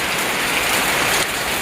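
Steady rain falls in a mountain village, a dense, loud, continuous hiss of drops on surfaces with no other sounds.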